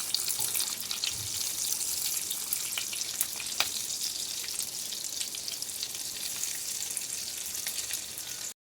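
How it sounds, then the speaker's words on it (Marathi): Semolina-coated bitter gourd pieces pan-fry in oil with a continuous bright sizzle, broken by occasional clicks of a spoon turning them, close and steady, without speech. "हे अशा पद्धतीने भाजायचं आहे कारलं हळवे काढून जरा पलटून पलटून भाजून घ्यायचं"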